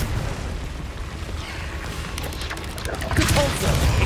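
A Confringo spell from Hogwarts Legacy bursts in a rumbling, crackling explosion during combat, with booming impacts swelling louder near the end amid game effects.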